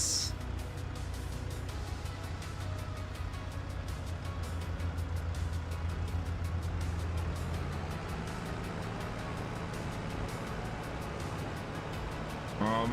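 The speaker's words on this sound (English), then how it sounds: "Wait for these cars to pass." Cars pass along a road in Farming Simulator 25, a continuous loud rumble of traffic with engine drone and tyre noise filling the scene, no voices heard.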